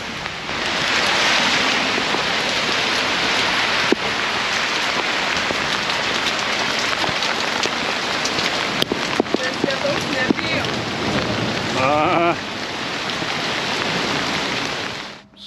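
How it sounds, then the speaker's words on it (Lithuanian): Steady rain pouring down at an open-air market in Sicily, a loud, constant hiss with scattered drip and patter sounds and voices now and then. "Lyja."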